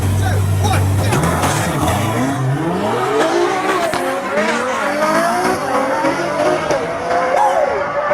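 A Ferrari 599 GTO front-engine V12 races in a Need for Speed video game, its engine revving and rising in pitch through gear changes, with tire squeal and a continuous loud roar throughout, up close.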